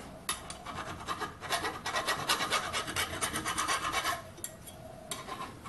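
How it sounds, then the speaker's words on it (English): Hand file rasping over the edges of ground-down metal pins, a series of short, close strokes in an irregular rhythm, quiet and with no voices. "so now I'll just run a file round to take the edge off"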